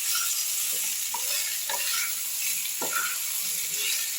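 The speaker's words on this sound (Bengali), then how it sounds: "কেটে রাখা কুমড়ো, একটু ঝিঙে আর বেগুন। এগুলো আমি একটু আলুর সঙ্গে ভেজে নেব।" Pumpkin, ridge gourd, eggplant and potato fry in a pan with a steady, dense sizzle, while a utensil scrapes and stirs through them every second or so. No one speaks.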